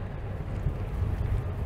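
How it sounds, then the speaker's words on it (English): Gusty wind buffets the microphone on a Great Lakes shoreline near large lake freighters, a low, rough rushing roar that swells and eases, moderately loud and continuous with no voices. "It's pretty windy."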